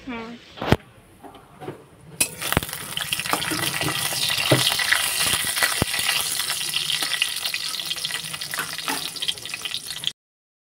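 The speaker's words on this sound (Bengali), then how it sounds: "এরপর হচ্ছে বড়িগুলো দিয়ে দেবো, একটু বড়িটা ভেজে নেবো।" Bori, Bengali lentil dumplings, drop into hot oil in a kadai and sizzle and crackle steadily for several seconds after a few clattering knocks, with a brief bit of talk near the start.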